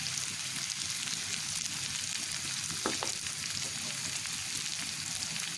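Olives in a hot pan for a sweet pickle hiss and sizzle steadily while being stirred, with a brief scrape of the spoon against the pan partway through, close and continuous with no talking.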